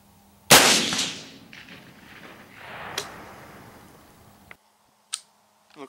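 A single loud, sharp rifle shot cracks out at a range while sighting in at 100 yards, then rolls away as a long fading echo, followed by a couple of faint clicks.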